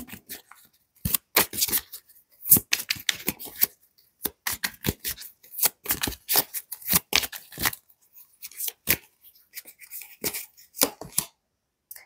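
Tarot cards drawn from a deck and laid down during a birthday reading, a long run of crisp snapping, sliding and slapping card sounds in quick irregular bursts, close and fairly loud with short pauses between.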